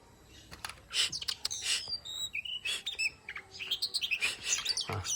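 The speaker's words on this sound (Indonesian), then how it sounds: "Ini kacir yang sangat jinak" A tame kacer, or magpie-robin, sings up close in quick bright chirps and whistled phrases, some bursts clustered and others spaced apart, against a quiet background.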